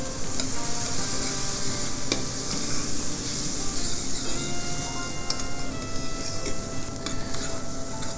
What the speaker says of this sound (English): So now we are just heating the rice for a minute while stirring